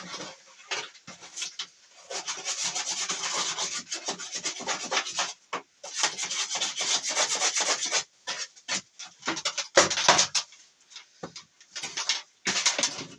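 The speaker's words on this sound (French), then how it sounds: "Là, un petit coup de brosse métallique." A wire brush scrubs a ceramic tile in repeated harsh, raspy bursts separated by short pauses, loud and close.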